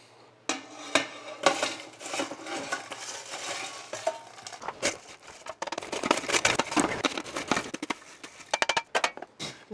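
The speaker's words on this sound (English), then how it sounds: "Just kind of gonna break everything up because a lot of it was really stuck together" Clumps of freeze-dried carnivore meal being broken up in a big pot, with rapid irregular scraping, clinking and rattling of a utensil against the pot, quieter at first and then busier and louder.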